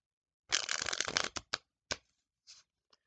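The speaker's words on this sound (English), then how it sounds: "I might give it one more shuffle." A deck of playing cards gets an overhand shuffle, a close, brisk flurry of papery riffling followed by a few separate soft card slaps and taps trailing off into quiet.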